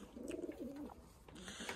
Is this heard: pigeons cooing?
yes